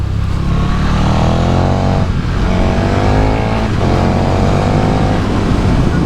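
A 2021 KTM 1290 Super Duke R engine roars loud and close under hard acceleration, its pitch climbing through gears with quick-shifter changes that cut in briefly around every second and a half.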